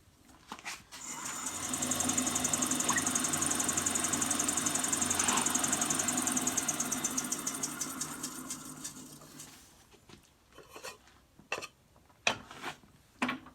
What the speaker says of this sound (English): I'll step back and turn the lathe on to make sure nothing's going to fly away crazy